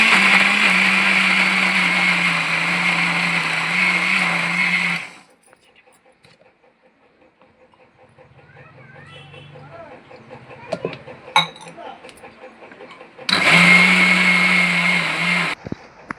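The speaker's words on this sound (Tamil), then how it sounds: "நம்ம எல்லாத்தையும் சேர்த்து நம்ம மிக்சியில் அடிச்சிக்கலாம்" A mixer grinder blending cake batter with a cup of oil whirs loudly for about five seconds, then stops, and a quieter stretch of handling and clatter follows before a second burst of the same steady motor roar.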